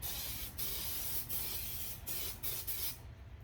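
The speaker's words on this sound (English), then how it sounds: "I'm going to spray the foam with a good coat" 3M headliner adhesive sprays from an aerosol can onto foam in several loud, broadband hissing bursts of uneven length separated by short pauses, close up and with no talk.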